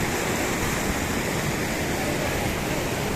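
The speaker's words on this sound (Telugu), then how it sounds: "వాటర్ ఫ్లో, లిటర్ రివర్, ఇది litter LIDDR, high velocity water, very high velocity" Very high-velocity river water rushes near Manali among snowy mountains, a steady, dense roar of flowing water with no break, close and continuous.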